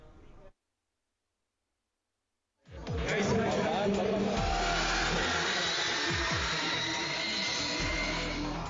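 Electric converted race cars competing at the PLN EV Conversion Race 2024 on Sentul International Karting Circuit in Bogor, West Java, making a loud, steady mechanical roar after a short lull, with crowd noise mixed in.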